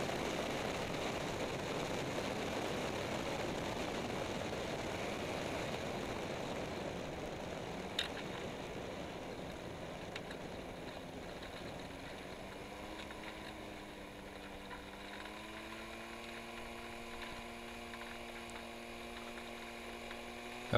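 A de Havilland Beaver ski plane's engine throttling back over snow, a steady distant drone that slowly drops in pitch and settles into a lower, even hum over about twenty seconds, quiet and with no voices.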